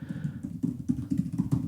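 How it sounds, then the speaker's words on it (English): Computer keyboard keys clatter in a quick, uneven run of close, moderately loud taps over a faint room hum, with no voices. "You can hear me typing,"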